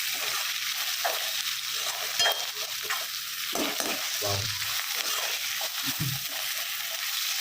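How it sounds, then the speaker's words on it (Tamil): Tomatoes and chillies sauté in an oil-filled pan while preparing quail egg thokku, a steady close sizzle with stirring scrapes and a few louder spatters, no voices. "இப்போ தக்காளியும் மிளகாயும் போடலாங்க"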